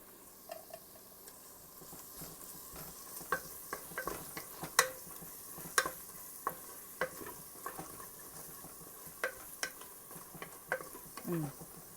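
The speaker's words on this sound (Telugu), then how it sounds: "ఇప్పుడు ఇంకాస్త వేగనిచ్చి కారం బాగా ఉడికిందండి" Chili powder frying in a pan for Telangana-style fish curry, a soft low sizzle under frequent sharp scraping and tapping of a spoon against the pan, with no voices.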